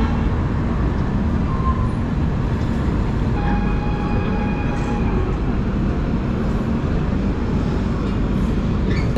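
The Guwahati–Howrah Saraighat Express stands at a railway platform with a continuous low rumble and hum. Faint tonal whines drift in and out over the steady station noise.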